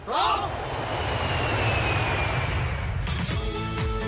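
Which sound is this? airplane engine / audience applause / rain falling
airplane engine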